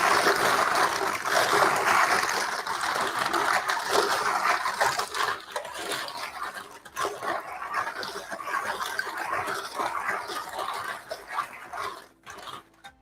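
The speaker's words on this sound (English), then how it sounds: "So all in there, give them a quick wash, just kind of under cold water." Cold tap water runs steadily over mussels in a kitchen sink, a continuous splashing, trickling rush that dips and shifts partway through as the shells are moved under the stream.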